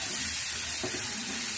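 Mixed vegetables fry lightly in a pan for vegetable soup, making a steady, close, continuous sizzle and hiss with no pauses.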